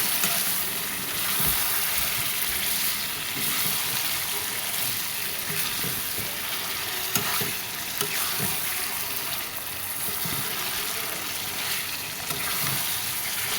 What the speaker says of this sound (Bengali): এখন মাংস দিয়ে ভালো মতো কষায় নিতে হবে